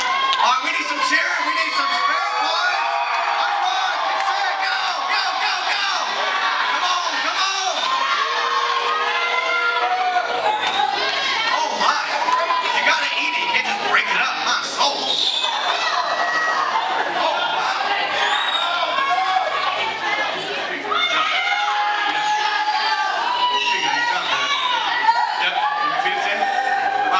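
A large crowd cheers and shouts without a break, children's voices mixed in with whoops and chatter, loud and sustained throughout an ice cream eating game contest.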